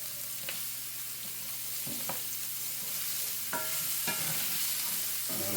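Butter melts and sizzles with shallots in a hot pan, a steady crackling hiss punctuated by periodic scrapes and stirs of a utensil, no voices present.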